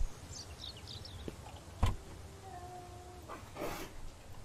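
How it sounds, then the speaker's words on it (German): In the survival game Mist Survival, a cat gives a few faint, thin meows early on. Soft clicks, a thump and a low mechanical whine sound from nearby game machinery. "Was machst du da, Katze?"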